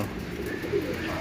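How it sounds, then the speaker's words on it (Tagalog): Pet pigeons let out of their coop coo softly for a moment, a faint, brief murmur against a quiet outdoor background. "nagpakalabas ulit tayo ng ibon natin"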